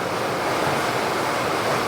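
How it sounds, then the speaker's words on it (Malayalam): Heavy rain pours outside in a continuous, even hiss, heard through a home kitchen with no one speaking. "പുറത്ത് ഭയങ്കര അതിഭീകര മഴ കേട്ടോ"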